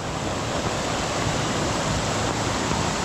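Rainwater spills over the rim of a laterite stone quarry pit in Malvan, a steady, close rushing of flowing water with no pauses.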